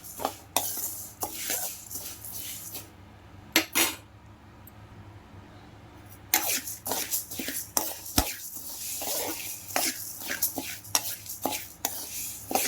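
Sambar powder spices roasting in a pan over a low to medium flame, with a spoon repeatedly scraping and clinking against the metal in an irregular stirring rhythm, close up, with a brief lull partway through.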